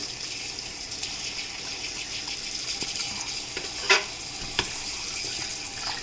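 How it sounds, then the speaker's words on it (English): Steady running tap water flowing into a sink while preparing raw chicken, with a couple of brief clinks near the end. "So I put the water on."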